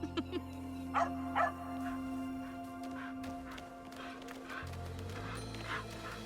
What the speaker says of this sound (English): Mother, we found an obedient dog.